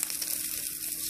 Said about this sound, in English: Well, I got me a couple eggs frying up.